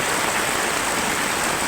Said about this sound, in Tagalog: yan na naman, umuulan na naman.